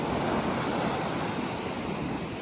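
Stormy sea surf breaks on the central beach in Chornomorsk, a loud, steady wash of waves with gusting wind buffeting the microphone throughout, with no voices.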